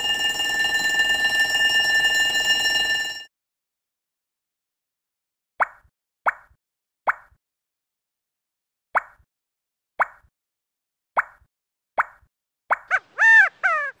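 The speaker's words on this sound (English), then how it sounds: "Fire alarm." In a preschool puzzle video game, a loud, steady ringing fire alarm sounds for about three seconds, then stops. A series of spaced plopping clicks follows, ending in a quick warbling chirp.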